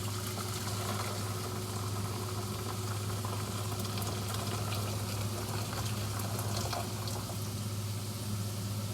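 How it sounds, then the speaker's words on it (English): A pot of water heating on the stove for pasta gives a steady, even bubbling hiss with a low hum beneath, continuous and fairly close with no talk. "Boiling water."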